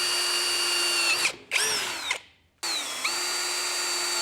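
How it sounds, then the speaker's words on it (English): A power drill whines loudly at steady speed, briefly dips and cuts out twice, then revs back up and keeps drilling into a metal pipe on a ute roof. "drill into the new pipe on the roof."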